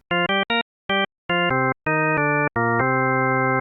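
Loud, synthetic organ-like tones built from stacked harmonics play a sequence of short then sustained chords, with brief silences between them.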